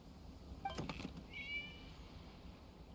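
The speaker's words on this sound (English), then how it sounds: "It was just a cat." A cat in a video game gives a short, faint meow, followed by a thin, higher cry, over a quiet background hum.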